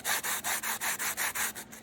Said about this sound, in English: so I'm sanding down the smooth side right now